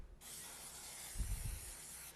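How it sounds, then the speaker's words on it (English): A short, steady hiss of canola-based nonstick cooking spray being sprayed onto hands, close and quiet, lasting about two seconds, with a faint low rumble partway through. "This is a canola based nonstick spray."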